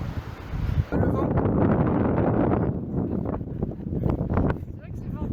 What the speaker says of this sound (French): C'est vrai que c'est venteux,